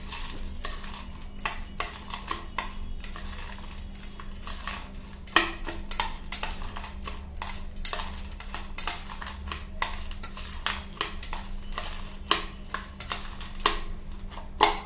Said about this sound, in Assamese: চামুচ এখনেৰে এনেকৈ ধুনীয়াকৈ লৰাই দিব লাগিব